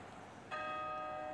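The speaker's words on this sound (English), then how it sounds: "You did a very good job ringing the bell." A single bell strike rings out about halfway through, clear and resonant, then sustains with a steady ringing tone to the end. It follows a quiet stretch of low background noise.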